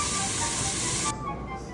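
An Instant Pot pressure cooker vents steam in a loud, steady, close hiss that stops abruptly after about a second, leaving a quieter background.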